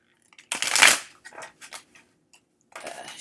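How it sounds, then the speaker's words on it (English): Osho Zen tarot cards being shuffled by hand, a loud riffling burst followed by several shorter, softer shuffles and a final rustle, close up with no talking. "I am going to shuffle my Osho Zen cards"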